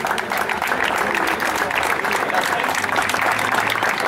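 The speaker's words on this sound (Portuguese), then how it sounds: "Uma salva de palmas." Crowd applause at a rally awards ceremony for the seventh-placed driver and co-driver, steady sustained clapping throughout with some voices mixed in.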